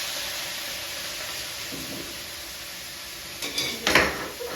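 Vegetables being stirred with stir-fry sauce in a pan, including softening broccoli: a steady low hiss, then a few clattering utensil scrapes and knocks near the end.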